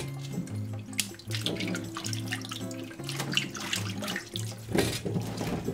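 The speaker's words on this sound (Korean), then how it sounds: "물에 3번 씻어서 모래를 빼줬다" Ginger pieces being rinsed by hand in a basin of water, with steady running water and sloshing, splashy handling close up, repeated bursts of rubbing and stirring through the water, no voices.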